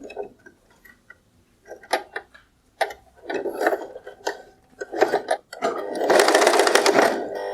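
A sewing machine stitches the fall onto a saree edge in short bursts of rapid mechanical clatter separated by pauses, ending in a longer continuous run, close and fairly loud.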